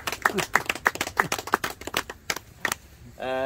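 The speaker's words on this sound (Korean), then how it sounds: "내년에는 비료 주자 한번 박수 한번 치고 합시다." Scattered clapping from a small audience at a Korean farming lecture on apple orchard fertilizing, sparse and uneven bursts of hands fading out, followed by a brief tonal sound at the end.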